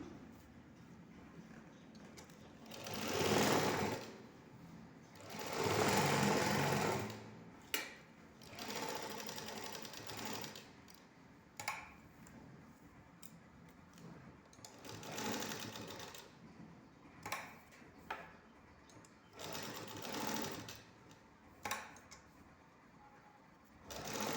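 A sewing machine stitches lace onto a cuffed sleeve in several loud running bursts separated by pauses, with quieter handling sounds between the runs.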